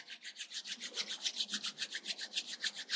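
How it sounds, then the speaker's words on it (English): Palms rubbed briskly together, a steady fast swishing with even strokes, close and alone without talk. "Start rubbing your palms."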